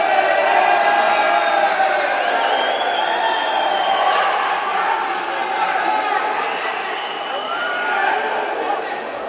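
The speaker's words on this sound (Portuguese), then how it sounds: "E a torcida vai à loucura" A futsal crowd at an intermunicipal cup match roars and cheers wildly in an indoor arena, a loud, dense, continuous wall of voices with shouts rising and falling throughout.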